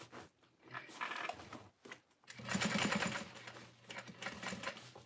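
A sewing machine stitches satchel lining in short bursts, a quick rattling run, a pause, then a longer, louder stretch of rapid needle clatter and motor whir, close by and faint overall.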